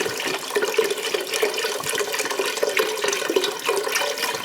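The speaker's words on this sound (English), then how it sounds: "chicken stock going in" Chicken stock pours into a soup pot, a steady close splashing and gurgling of liquid that runs throughout without any voices.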